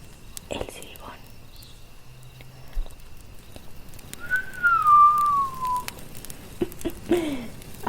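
A single drawn-out whistle, slowly falling in pitch and lasting around a second and a half, is given by a voice imitating the whistle of the Silbón legend, set among soft whispered storytelling beside a campfire.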